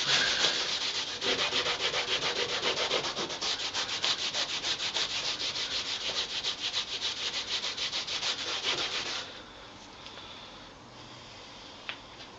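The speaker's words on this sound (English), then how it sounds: "Scrubbing is definitely better." Bare wood scrubbed hard to lift out soaked-in oil, a steady close rasping rub with rapid back-and-forth strokes for about nine seconds, then stopping to near quiet with a faint tick.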